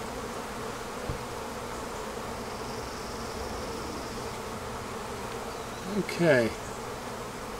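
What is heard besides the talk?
honey bees buzzing in an opened beehive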